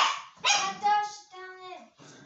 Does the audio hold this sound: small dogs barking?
yes